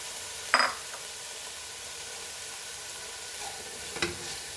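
Onion and tomato frying in about half a tablespoon of oil, a steady hiss of sizzling throughout, broken by two brief clinks of a spoon against the pan, close and without talk.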